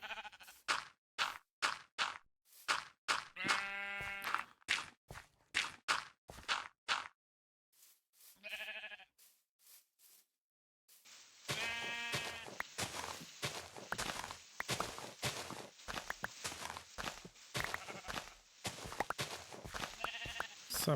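In Minecraft, a sheep bleats a few times with short, wavering calls, first among sharp clicks and footsteps, then again over a denser stretch of game noise, with no talking in between.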